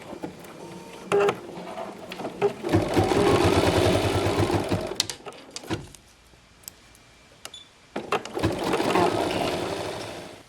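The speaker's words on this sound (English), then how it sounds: "we're ready to stitch the remainder of the colors." Embroidery machine stitching the remaining colours of a pre-cut fabric appliqué, a steady rapid needle rhythm in two loud bursts separated by a quieter pause with scattered clicks.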